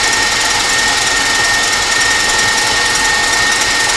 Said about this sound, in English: And as you can hear my KitchenAid in the background,